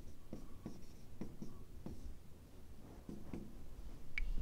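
A pen writes out an equation by hand, giving faint, close scratching strokes and light ticks in short irregular bursts, with no talk.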